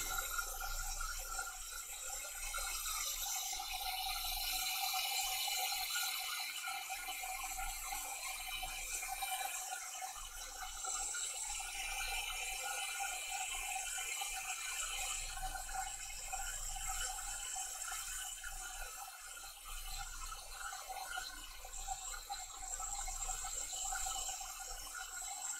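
A heat gun drying touch-up paint on a pinball playfield gives a steady, unbroken fan whir and airy hiss that holds at an even, moderate level throughout.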